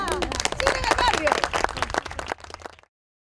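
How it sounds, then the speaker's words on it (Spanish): Clapping from a crowd at a Cine en el Barrio community event in Trujillo, Peru, part of the Barrio Seguro program. Dense claps run for about two seconds with cheering voices mixed in, then cut off. "¡Un aplauso para Cine en el Barrio!"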